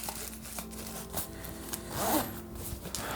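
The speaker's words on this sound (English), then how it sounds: "this is another zipper" A zipper on a camera bag is pulled in short, quiet rasping strokes, close by and alone, with a slightly longer pull near the end.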